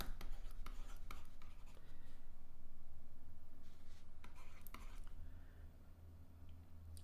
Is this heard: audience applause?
no